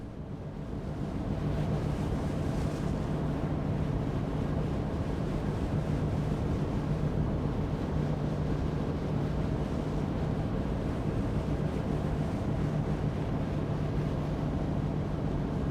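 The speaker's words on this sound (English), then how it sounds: "It's nice when you're away from the engine. You can hear the wind and the waves." Continuous rushing wind buffeting the microphone over the wash of waves against a boat near Ghent Harbour, away from the engine, steady and fairly loud throughout with no voices.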